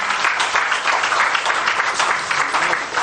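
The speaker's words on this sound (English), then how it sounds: "Please, let's give him another round of applause." Dense, steady clapping from an audience at a public budget forum, loud and close, sustained without pause and with no voices on top.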